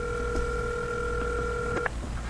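Phone call dial tone: a steady two-pitch electronic hum holds for nearly two seconds, then cuts off with a short click over a low background rumble.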